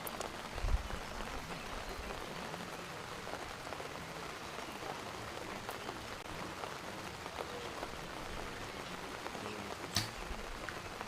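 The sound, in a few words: rain falling on umbrellas and tents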